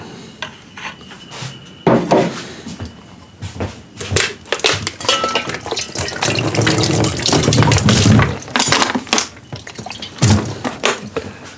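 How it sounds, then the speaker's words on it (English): Tap water runs into a sink while a small bitters bottle is rinsed out, a steady splashing rush with rubbing and clinking handling noises throughout, fairly loud and close, with no talk. "had to rinse that one out"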